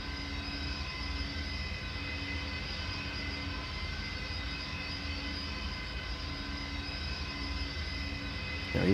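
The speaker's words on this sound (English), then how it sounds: "That sounded more like a propeller plane, that one we're going past just then." A propeller-driven airplane in a video game drones steadily past, a continuous engine hum with a low rumble and tonal whine holding even throughout, no voices over it.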